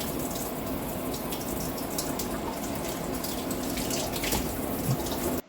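Tap water runs steadily into a kitchen sink while basil is rinsed under it, a continuous close splashing rush that cuts off abruptly at the end.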